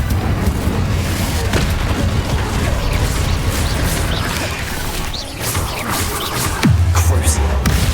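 Magical blasting spell erupting in Hogwarts Legacy, a loud, dense booming crash with rumbling low-end, ending in a sharp whooshing impact near the close.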